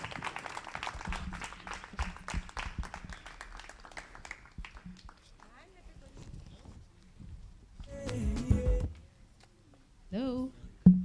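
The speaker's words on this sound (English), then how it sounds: "let's give them a round of applause" Audience applause at a speaking event in Labone, a dense patter of clapping for the first few seconds that thins and fades, followed by a voice speaking near the end.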